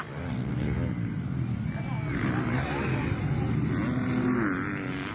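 Yamaha and Kawasaki motocross bikes race, their engines revving up and down at a moderate distance beneath a steady murmur of crowd chatter.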